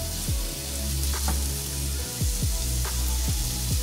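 Two finely chopped onions sautéing in a pan for Turkish minced-meat pizzas, a steady close sizzle with repeated low thumps and scrapes of stirring over the frying hiss.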